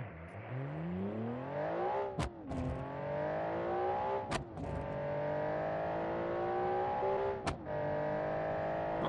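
A sports car in BeamNG races around a track, its engine a loud, menacing sustained drone that climbs steadily through the gears, with abrupt shift breaks at a few points.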